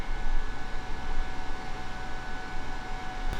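Fans of a Z15 ASIC miner spin during boot-up, giving a steady broadband whoosh with a faint tonal hum, constant and fairly quiet with no speech.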